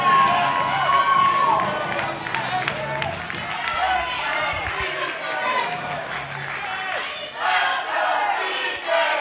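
A packed crowd at a CrossFit qualifier event roars and cheers wildly without letup, with shouts and scattered clapping mixed in, while an announcer talks loudly over the noise.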